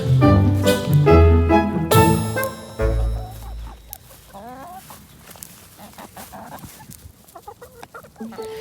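Several chickens cluck and squawk loudly in bursts at first, then quieter scattered clucking continues nearby.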